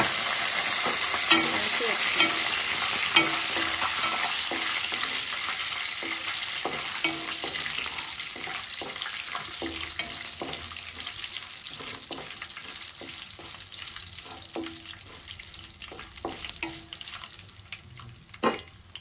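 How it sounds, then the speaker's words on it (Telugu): Steady sizzling and crackling of mustard seeds, cumin, curry leaves and dried red chillies frying in hot oil, with occasional soft stirring clicks, continuous and close, no voices. "తాలింపు అయితే వేగిపోయింది."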